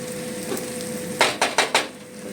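Onions fry in oil with a soft, steady sizzle, then a utensil scrapes the pan in four quick, close stirring strokes.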